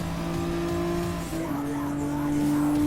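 Renault Clio V6 race car in a Gran Turismo Sport one-make race at the Red Bull Ring, engine droning steadily close up with a rising pitch through the gears and faint tire noise.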